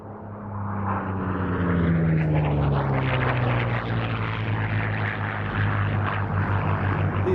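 A Yakovlev Yak-3 piston-engined World War II fighter flies past at an air show, its propeller engine droning loud and steady with a falling pitch as it sweeps by.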